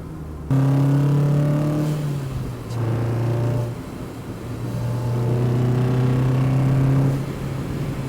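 A Mazda Miata engine accelerates through several gears, its intake roaring in rising pulls broken by short shift pauses, close and loud.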